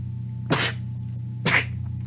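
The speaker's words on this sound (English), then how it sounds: "I have to sneeze." Two sharp sneezes about a second apart, each a loud breathy burst over a steady low electrical hum.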